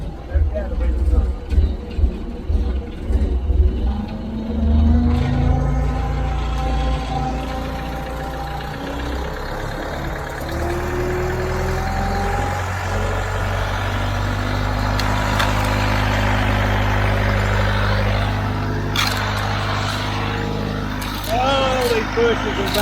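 An old Hesston 620 engine, long left sitting, runs with its throttle raised, a loud, rough mid-pitched roar with knocking that steadies and rises, while someone talks over it.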